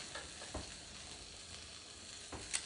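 Meat searing in a hot frying pan for a weeknight dinner, giving a steady close sizzle and crackle with a few louder pops, no talk over it.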